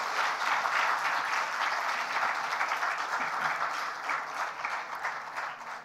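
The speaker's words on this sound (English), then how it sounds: "Let's give them a huge round of applause." Sustained audience applause fills an award gala hall honoring teen heroes in Nepal, a dense, steady wash of many hands clapping throughout, loud and close with no talk over it.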